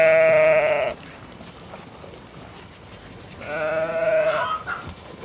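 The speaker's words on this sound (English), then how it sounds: "Let's venture into the meadow and say hello to the fluffy sheep." A cartoon sheep in a meadow bleats twice, a loud wavering baa at the start and another after a quiet gap, with faint background noise between.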